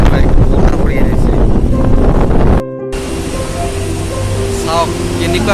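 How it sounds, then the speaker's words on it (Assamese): Strong storm wind at an airport during boarding buffets the microphone in a loud, rough, continuous roar, cutting to a slightly calmer gusty stretch where a person speaks over it. "ধুমুহা একেবাৰে পুৰা বতাহ ধুমুহা আহিছে, বাহিৰত চাবই নোৱাৰি, বতাহ কৰি আহিছে।"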